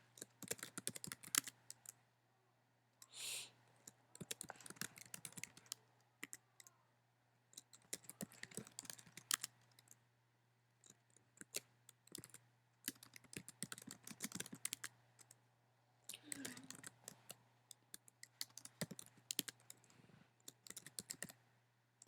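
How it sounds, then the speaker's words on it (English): Typing on a computer keyboard, heard in irregular bursts of quick clicking keystrokes separated by short pauses, fairly close and moderately quiet, with no talking. "So go ahead and just type what I'm typing here."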